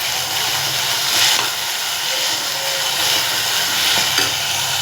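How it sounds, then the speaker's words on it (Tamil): Small spinach greens being sautéed in a pan, producing a loud, steady hiss and sizzle with faint stirring sounds, close up and without talk. "நல்லா வதக்கிட்டு வந்துடுங்க."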